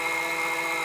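Bafang BBS02 e-bike mid-drive motor spinning fast on higher voltage with a 60A Castle Creations controller, a steady loud high-pitched whine held without a break.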